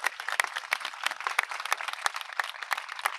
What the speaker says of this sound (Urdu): کھل کر تالیاں بجائیں۔